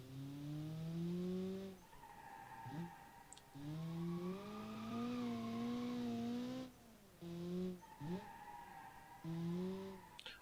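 Sports car with a 1.8 liter inline-4 turbo engine of 220 horsepower, front engine and rear-wheel drive, in a 1995 budget racing challenge in BeamNG, revving hard through repeated gear shifts with squealing tires.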